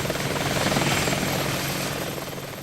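An Apache military attack helicopter flies close by, its dense rotor thump and turbine roar loud and continuous with no voices over it.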